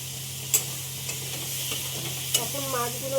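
Prawns frying in oil in a pan, a steady soft sizzle with a low electrical hum and two light clinks of a utensil, no talking.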